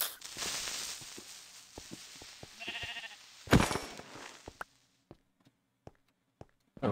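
In Minecraft, a sheep gives a brief, faint bleat amid blocky footstep taps and clicks. The soft game ambience then drops to near silence with scattered taps.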